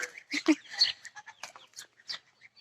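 Village hen giving a string of quick, close clucks in an uneven rhythm, brief and moderately quiet with no talk over it.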